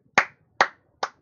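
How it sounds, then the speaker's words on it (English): Three sharp hand claps sound close by at an even, unhurried pace, each quick and crisp, with silence between them and no talk. "Round of applause."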